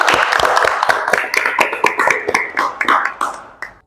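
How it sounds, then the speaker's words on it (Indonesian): A small classroom group at SMK Manbaul Ulum, Cirebon, gives a student a short round of hand clapping. It starts fairly loud, turns uneven, and trails off into a few last claps. "Kita beri aplaus dulu untuk Neng Fitri."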